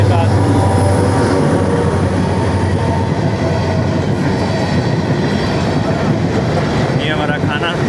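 A train hauled by an NLC locomotive passes close by at a railway station, a loud continuous rumble of wheels and wagons with rhythmic rail clatter and a brief squeal near the end.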